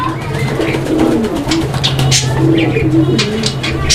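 Chomok fancy pigeons coo steadily and close by, a low continuous rolling call with a few faint higher chirps overhead.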